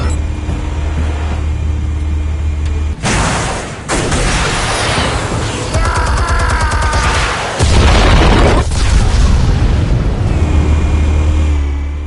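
Explosive charges detonate in a loud, broadband burst of blasts and rumbling debris, several heavy booms in succession over a steady low background roar, with no voices.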